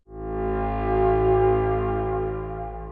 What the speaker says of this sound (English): 2 tones signaled a fire.